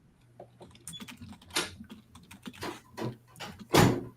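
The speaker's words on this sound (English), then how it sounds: "I'm just typing in the chat real quick." Rapid keystrokes clatter on a computer keyboard while someone types a chat message, with uneven bursts of taps and a louder final key strike, close to the microphone with no talk.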